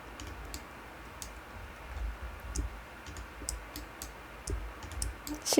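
Computer keyboard keys are pressed in scattered, faint clicks with irregular spacing, some landing close together, over a quiet room hiss and ending in a slightly firmer tap.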